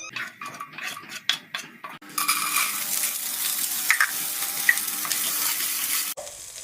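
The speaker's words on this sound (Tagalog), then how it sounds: "nagluluto ako ng fried rice" Fried rice cooking in a pan: a few sharp metal clinks of a utensil against the pan, then a loud, continuous sizzle of frying with occasional stirring scrapes, close by.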